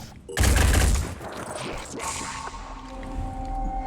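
Return gunfire in the Phoenix Point video game, a loud burst of shots hitting hard at the start, then fading into softer impacts and a lingering tone.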